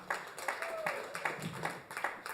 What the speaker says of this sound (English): Very well done not making your applause any louder for any particular producer.